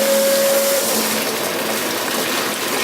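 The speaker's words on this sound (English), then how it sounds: "You can hear the pump kicks on." Pump of an AF4 concentrate mixing unit running as water flows in, a loud steady whooshing hum with a brief tonal whine at the start, close and continuous with no talking.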